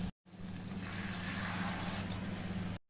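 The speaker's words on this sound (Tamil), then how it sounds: "வெண்டைக்காய் இந்த மாதிரி நல்லா வதங்கினதும் புளி தண்ணி எடுத்து ஊற்றிடலாம்." Tamarind water pours into sautéed okra for a tangy South Indian curry, a steady close splashing trickle lasting a few seconds over a low hum, with abrupt cuts at the start and end.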